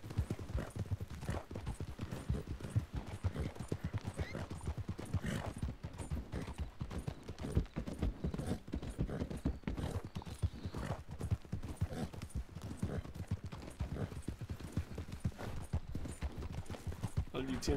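Horses clip-clop in a steady, rapid rhythm of hoofbeats in a role-play video game, continuous and close for the whole stretch, with an occasional whinny and people chatting quietly underneath.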